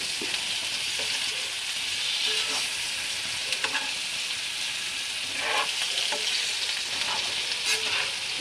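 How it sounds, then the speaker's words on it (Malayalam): Vatta fish pieces fry in hot oil in a pan with a loud, continuous sizzle, and a few soft scrapes and clicks come through as they are flipped close by. "അപ്പോൾ മീൻ മറിച്ചിടാറ്"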